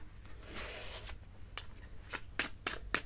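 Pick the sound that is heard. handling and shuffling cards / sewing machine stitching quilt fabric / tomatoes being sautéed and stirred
handling and shuffling cards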